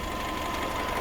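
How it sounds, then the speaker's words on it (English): A Fiat 500 with a 1.2 engine idles being warmed up, a low, steady, faint hum with a fine rapid knocking texture throughout. "I'm running the engine"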